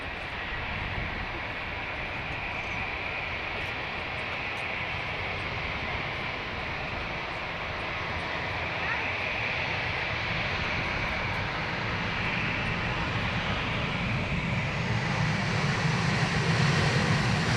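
A Qatar airliner takes off from runway 10 right at Dublin Airport, a continuous broad jet roar building steadily and growing louder toward the end, heard from a distance.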